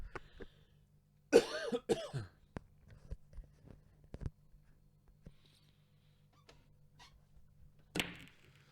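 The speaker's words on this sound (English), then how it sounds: "I'm going to have a cough." A single sharp cough rings out close by during an 8-ball pool match, followed by a few quieter clicks and knocks in an otherwise quiet room, then a brief rustle.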